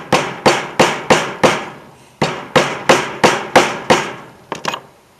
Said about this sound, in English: So plan B, rivets.